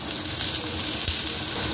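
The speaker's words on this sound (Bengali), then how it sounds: "তেলের উপরে পেঁয়াজটা দিয়ে দেব আর 1 চিমটির মতো কালো জিরে দিয়ে দেব" Onion and a pinch of black cumin (kalo jeere) sizzle in hot oil, a steady close hiss with a few faint crackles throughout, no voices.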